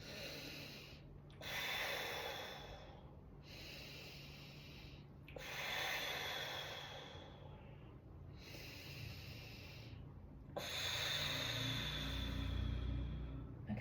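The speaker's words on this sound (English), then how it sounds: "we're going to breathe in through the nose and out the mouth 3 times" A person takes three slow breaths during a fascial stretching exercise, inhaling through the nose and exhaling through the mouth, each breath a soft, close airy rush separated by brief pauses.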